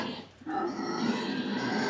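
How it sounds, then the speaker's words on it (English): Pigs in a straw-bedded winter barn give low grunts that swell into a continuous, moderately loud chorus after a brief quieter moment. "The pigs heard me. It's not breakfast time."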